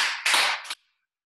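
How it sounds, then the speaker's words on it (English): Three quick hand claps ring out in a short burst, loud and close, as a group of young children claps together in a self-defence class, then it goes silent. "Three big claps."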